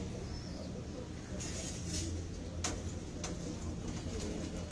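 Red-eyed golden pigeons at a pigeon market coo softly and repeatedly under a busy, noisy background with a few faint ticking sounds.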